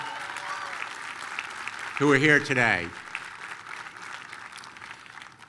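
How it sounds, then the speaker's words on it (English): An audience at a commencement ceremony applauds in a continuous wash of clapping that runs the whole time, while a voice over the sound system briefly speaks above it. "I want to give them another round of applause."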